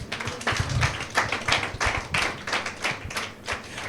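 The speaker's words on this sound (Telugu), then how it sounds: "చప్పట్లు కొడదాం దేవునికి" A church congregation claps their hands for God in a rhythmic series of sharp, fairly close claps, about ten beats, with no one speaking over them.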